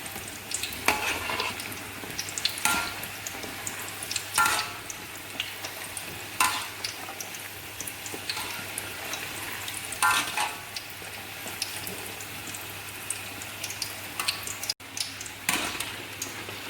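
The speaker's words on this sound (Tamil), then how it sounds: "அதை கொஞ்சம் நேரம் கிண்டிக்கிட்டே இருக்கணும். அப்போ தான் அது வந்து நல்லா பொன்னிறமாக வரும்" Potato curry puffs deep fry in hot oil with a constant bubbling sizzle, broken every couple of seconds by brief scrapes and knocks as a utensil stirs and turns them in the pan.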